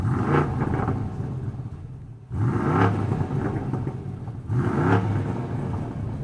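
A BMW 850i's 4.4-litre twin-turbo V8 starts, roars and revs repeatedly, each surge rising then dropping off, with three big rumbling blips in a row.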